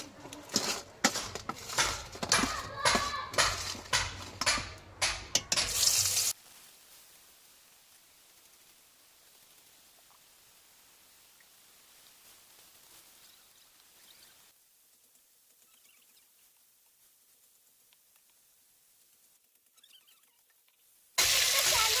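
Skewered prawns fry in a pan with a loud, crackling sizzle for several seconds, then the sound drops to a faint hush before a brief loud burst returns at the end.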